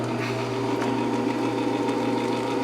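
A restored 1959 Axeman Anderson 130 coal stoker runs with its gearbox turning and fan going, giving off a steady low mechanical hum and drone with a faint whine, continuous and unbroken throughout.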